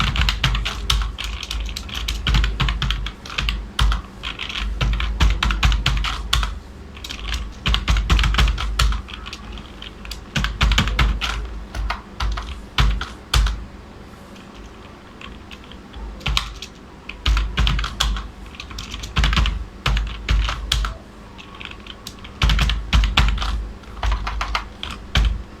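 Fingers type on a computer keyboard while working in Microsoft Excel, producing bursts of close, crisp key clicks in an irregular rhythm with short pauses between runs.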